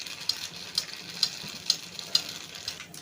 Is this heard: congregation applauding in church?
no